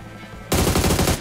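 Rapid automatic gunfire in a video game, after a half-second of quiet background, the shots burst in loud and close in a fast, even rattling stream.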